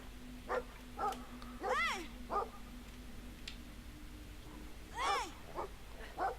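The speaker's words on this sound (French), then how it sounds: "Donc vous avez un vilain chien qui vous en veut." A hostile dog in the video game Brothers: A Tale of Two Sons gives several short barks and yelps spaced across the stretch, faint under a low steady game hum, no talking heard.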